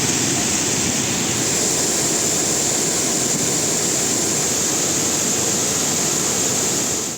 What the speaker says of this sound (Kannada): 320 ಎಕರೆ ವ್ಯಾಪ್ತಿಯ ಅತಿದೊಡ್ಡ ಕೆರೆ 4 ವರ್ಷಗಳ ಬಳಿಕ ಕೋಡಿ ಬಿದ್ದಿದೆ.